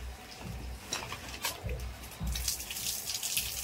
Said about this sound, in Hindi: इसमें भी आपका पानी आ रहा है